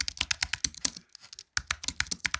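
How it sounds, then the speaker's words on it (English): Rapid keyboard typing, a dense run of sharp clicks, pauses briefly in near silence, then resumes with steady keystrokes, close and clear. "Yep, it's a keyboard."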